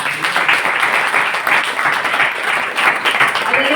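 A church congregation at a Christmas meeting claps together in a loud, even, sustained round of applause filling the hall, close and unbroken.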